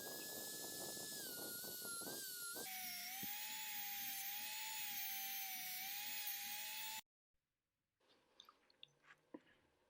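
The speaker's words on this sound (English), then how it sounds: "Here I'm polishing the body. It results a nice quality paint job." A rotary polishing tool whines steadily on the painted body of a 1971 Matchbox Mazda RX-500 model car, a high buzzing drone that shifts pitch partway through, then cuts out to near silence with faint small clicks.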